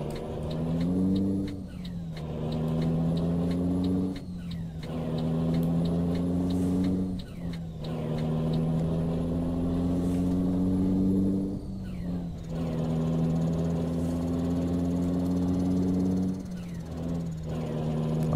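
A Volvo NH 420 truck engine in Euro Truck Simulator 2 drones loud and steady, pitch climbing through each gear, with a sharp dip at every shift, roughly every few seconds, over about five gear changes.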